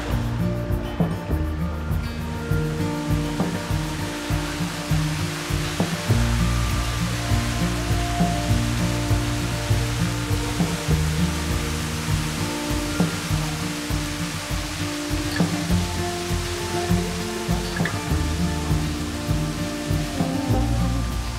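A waterfall at the end of the steps on the Levada do Caldeirao Verde trail in Madeira, a steady, loud rushing wash of falling water that continues without a break under a faint tonal hum.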